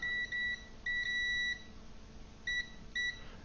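Tenma 72-7780 multimeter in continuity mode gives a clean electronic beep each time its probes touch, four separate tones of uneven length with short gaps, close and clear over a quiet background.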